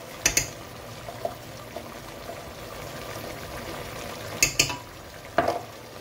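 Chicken cooks in a pot for Punjabi biryani, a soft continuous sizzle broken by a few sharp clanks of a spoon or lid against the metal, with no talking.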